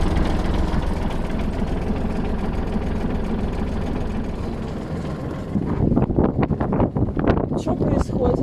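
A boat engine runs loudly close by with a steady low rumble, idling on the water, while a voice speaks over it in the final few seconds.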